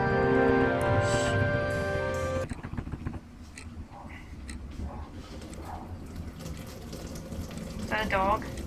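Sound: running water from someone doing dishes, video game

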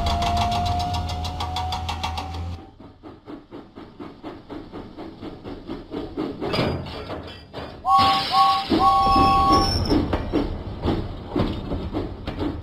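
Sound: steam engine puffing away, Thomas & Friends video game

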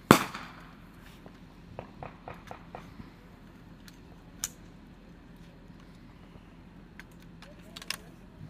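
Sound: gunshots fired during Air National Guard readiness exercise

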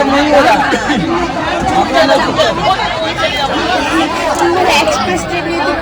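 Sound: chatter of a crowded train

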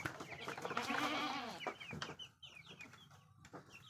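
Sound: chickens clucking

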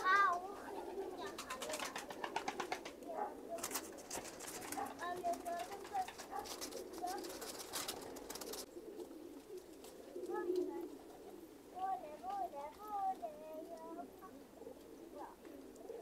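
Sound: pigeons cooing

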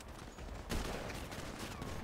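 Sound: gunfire in a video game

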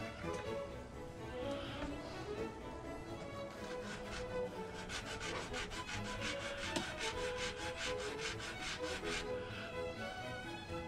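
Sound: sanding a wooden model ship part

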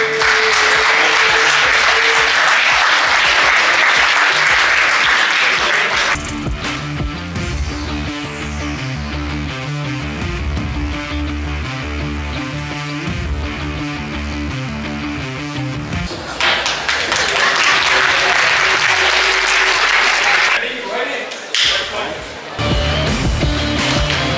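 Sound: audience applause for Samira Kindermann

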